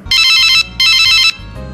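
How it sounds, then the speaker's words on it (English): A phone ringtone sounds loudly and clearly, two long electronic ringing bursts separated by a short gap, with no voices over them. "Sorry Georgie, my phone is ringing, I will make a phone call right now"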